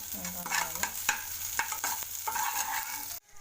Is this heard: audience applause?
no